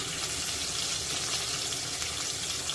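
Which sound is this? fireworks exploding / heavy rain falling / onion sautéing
onion sautéing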